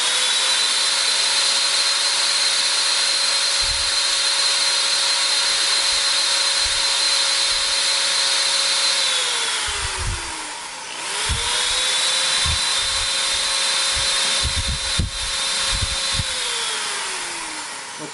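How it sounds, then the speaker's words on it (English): A power drill drilling metal whines at a steady high pitch, winds down briefly, then spins up again, close and loud, with occasional knocks and clanks underneath. "whenever you're drilling metal"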